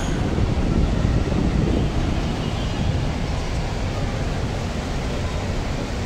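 Wind blusters outdoors, a broad steady rush buffeting the microphone, somewhat stronger at first and then settling into a constant roar.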